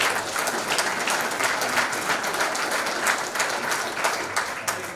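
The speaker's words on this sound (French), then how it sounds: "j'ai envie que tout le monde s'applaudisse ici" An audience at a scientific conference day claps in sustained, even applause, a dense and fairly loud patter of many hands with no talking over it.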